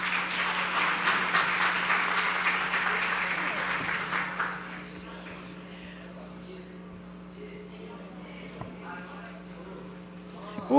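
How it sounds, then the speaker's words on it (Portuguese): A crowd at a solemn church session for Pastor's and Missionary Day breaks into loud, sustained applause for about four seconds, then fades to quiet room murmur with a faint hum. "E cadê as palmas?"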